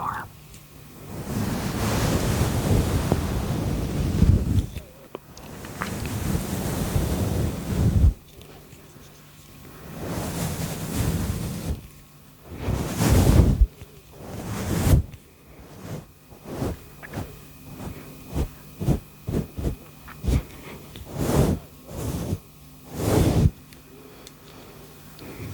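Brush strokes used for ASMR, a series of close, soft bristly swishes coming in irregular bursts, some long and some quick, with quiet gaps between them.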